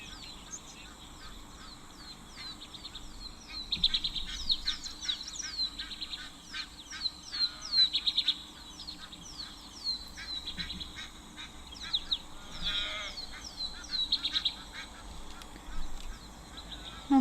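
Egyptian geese honk at a waterhole, bursts of harsh repeated calls rising and falling over soft outdoor ambience, some close and loud, others farther off.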